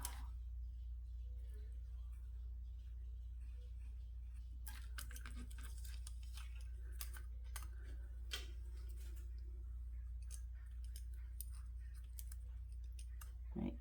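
Scissors snip through a paper square for a seaside-themed craft, a run of short crisp cuts coming close and fairly quiet over a steady low hum, with no talking.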